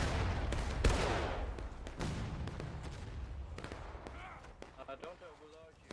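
Infantry musket volleys in a Civil War video game: a heavy close shot, then scattered cracks of gunfire going on irregularly under a voice calling out.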